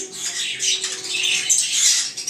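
Pet birds squawk and chirp continuously in a home setting, a steady busy mix of high calls close by with no talking.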